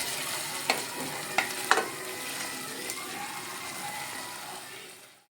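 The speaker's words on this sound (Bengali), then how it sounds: "এবার আমি খুব ভালো করে একই সঙ্গে মশলাটা কষিয়ে নেব।" Spice paste with Kashmiri chili powder fries in a pan with a steady sizzling hiss, punctuated by a few sharp clicks of a spoon stirring and scraping, alone and fairly close.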